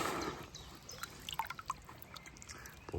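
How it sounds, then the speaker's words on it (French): A small amount of water emptied from the bottom of a bucket during gold panning outdoors, a brief soft pour fading into a few faint drips and trickles. "je vais vider ce tout petit fond de seau"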